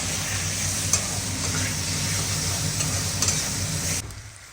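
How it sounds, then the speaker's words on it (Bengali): Spice masala with chopped tomato sautés in a pan for a spicy mourola fish chorchori, a steady hiss and sizzle with a few light stirring clicks before the sound cuts off abruptly near the end. "তারপর ধীরে ধীরে মশলাটা কষিয়ে নেব।"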